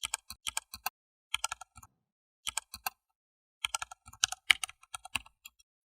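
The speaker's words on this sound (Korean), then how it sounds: "그분이 가르쳐주신 아이디 비밀번호를 입력해 보았는데요" An ID and password are typed on a computer keyboard to log in, coming as quick bursts of crisp key clicks with short pauses between groups, close up and alone.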